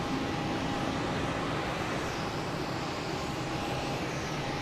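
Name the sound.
Porter airliner from Toronto landing at Boston Logan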